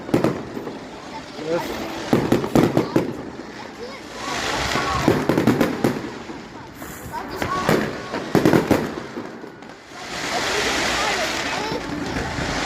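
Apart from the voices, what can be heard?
Bonfire Night fireworks exploding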